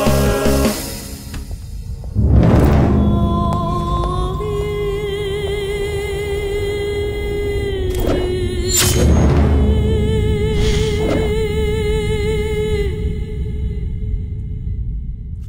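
Sharp bangs burst out at intervals, a big one early and two more later, over a sustained musical drone and low rumble.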